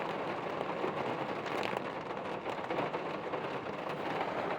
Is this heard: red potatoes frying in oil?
no